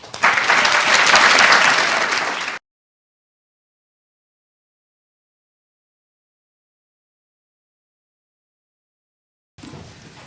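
An audience at a library symposium applauds to welcome a speaker, a burst of clapping for about two and a half seconds that cuts off into silence, then briefly resumes at the end.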